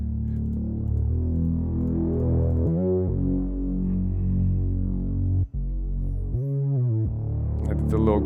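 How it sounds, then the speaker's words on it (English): Growler Moog bass from Omnisphere in an R&B beat, a deep sustained synth bass with buzzy harmonics playing a slow line with short gliding notes, loud and steady with no drums. "It's called Growler Moog bass"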